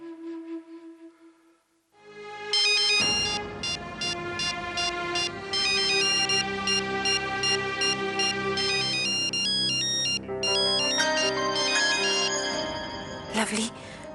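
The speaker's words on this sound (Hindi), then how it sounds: "लवली, तू इतनी देर से अम्मा सा का फोन अवॉइड की जा रही है" A phone plays a loud melodic ringtone for an incoming call, a bright repeating tune that rings continuously for several seconds after a quiet start, with a brief voice in the background.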